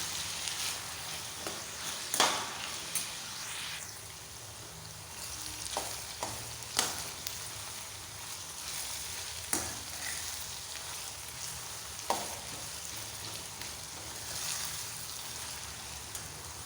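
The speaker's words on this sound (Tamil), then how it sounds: "வெங்காயம் எண்ணெயிலே நல்லா வதங்கணும்." Chopped onions sizzle steadily in hot sesame oil in a kadai with mustard seeds, stirred now and then with a spoon, giving soft scraping knocks over a constant close frying hiss.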